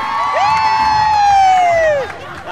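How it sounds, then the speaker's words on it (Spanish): A street crowd at a November 3rd parade cheers a dancer, led by one long, high, sustained whooping shout that rises, holds and drops off over a loud crowd roar. "aplauso para la pela"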